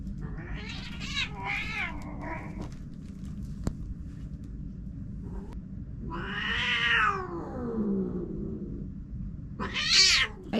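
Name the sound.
cat meowing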